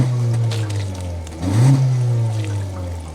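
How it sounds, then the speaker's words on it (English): Exhaust note of a 2023 Honda CR-V EX-L AWD, a low, smooth idle hum heard up close with a single brief rise in revs midway before it settles back. "Okay, and next is our exhaust test."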